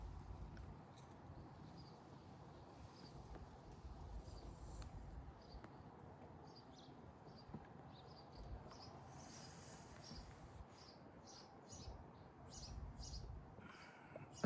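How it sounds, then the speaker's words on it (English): Scattered bird chirps and tweets ring out at a distance over soft outdoor rumble, irregular and fairly faint throughout. "I don't know if you can hear the birds here"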